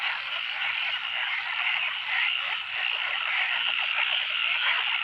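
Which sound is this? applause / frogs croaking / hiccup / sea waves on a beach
frogs croaking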